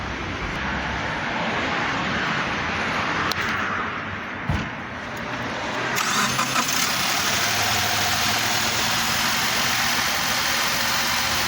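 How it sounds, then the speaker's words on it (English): A 2015 Subaru Forester XT engine runs at a steady idle, a continuous low rumble with a slight shift partway through, heard alone without voices. "we are going to start up this engine"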